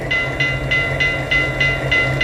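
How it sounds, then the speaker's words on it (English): A Lionel model train sounds its whistle and bell together in short, evenly spaced bursts, about seven blasts over a steady low motor hum, close and clear. "I'll blow the whistle again, and the bell."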